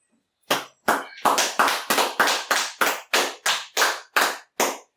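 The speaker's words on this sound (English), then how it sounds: "Clappy, clappy, clap, clap, clap." Eleven or so sharp hand claps ring out in a quick, slightly uneven rhythm, close and loud, with no other sound between them.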